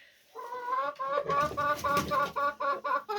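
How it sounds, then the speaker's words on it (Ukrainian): Several hens clucking and chattering inside a chicken coop, a close, busy run of rhythmic calls that swells and pulses continuously for a few seconds. "Курочка хороша співачечка."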